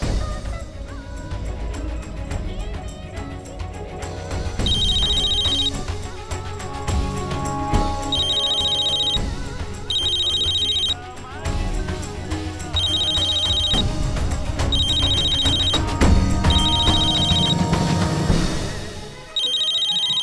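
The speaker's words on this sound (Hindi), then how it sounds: "तुम्हारा फोन बज रहा है।" A phone ringtone plays repeatedly in a domestic scene, an electronic melodic ring recurring in regular bursts over steady background music, loud and sustained for about twenty seconds.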